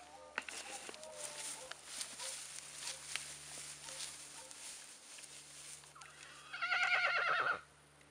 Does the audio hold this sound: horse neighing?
yes